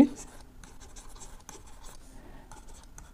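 Steady scratchy strokes of writing on a board during a general maths lesson on sets and functions, with short irregular bursts close by and faint speech in the background.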